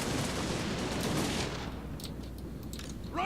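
Handgunners fire a volley in the fantasy battle strategy game Total War: Warhammer II, a dense burst of crackling shots over battle noise that fades into distant scattered pops.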